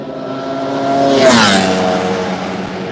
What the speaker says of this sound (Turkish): motor sesleri insanın kafasının içinde çınlıyor.